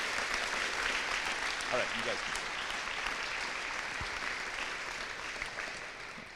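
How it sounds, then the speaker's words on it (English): An audience at a school fall activities awards night applauds a state champion runner, a sustained wash of clapping that slowly fades, with a voice speaking briefly over it. "So let's give her a round of applause."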